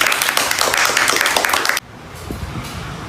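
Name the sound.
group clapping hands for a participant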